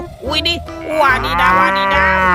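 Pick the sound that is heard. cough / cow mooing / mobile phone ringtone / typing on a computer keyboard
cow mooing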